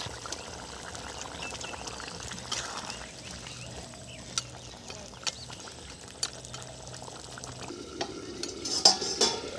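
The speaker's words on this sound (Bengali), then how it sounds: "মাছের মাথা ভাজা দিয়ে দিচ্ছি" Fried katla fish heads go into a simmering fish gravy in a home kitchen: quiet stirring and soft bubbling, with a few light clicks of a spoon against the pan toward the end.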